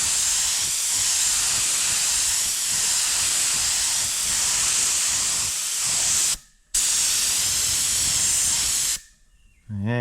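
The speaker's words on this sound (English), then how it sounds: "Gonna spray our mystery color on here." A spray paint can releases black paint in a loud continuous hiss at close range, broken by a brief pause before spraying resumes and then stops near the end.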